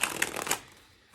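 Tarot cards being shuffled: a quick riffle of three or four crisp, papery bursts close by. It ends after about half a second and fades into quiet.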